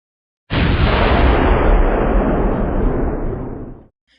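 A single deep boom from a historic coastal artillery gun at Fort Worden fires with a sharp onset, then a loud broad rumble sustains for over three seconds before cutting off.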